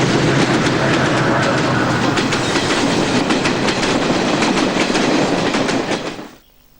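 A train rumbles past close by on the railway track, wagons clattering in a rapid clickety-clack rhythm, loud and steady until the sound falls away abruptly at the end.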